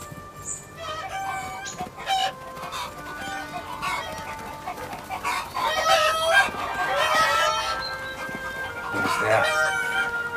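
Several chickens cluck and squawk nearby, with a rooster crowing partway through; the calls overlap irregularly over a faint background murmur.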